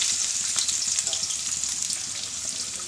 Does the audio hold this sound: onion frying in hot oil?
yes